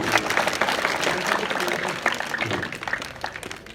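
An audience at a village gathering in Raedharana claps in a sustained round of applause, with a voice speaking over the clapping.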